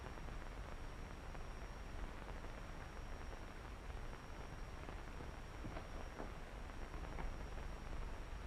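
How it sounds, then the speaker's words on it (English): Rain falls steadily in a dense, even hiss, faint and constant throughout with no voices. "The rain ought to let up soon."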